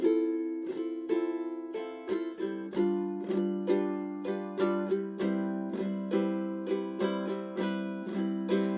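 Ukulele strummed in a combined down-up calypso pattern, bright chords ringing in a steady, bouncy rhythm, close and clear without any voice.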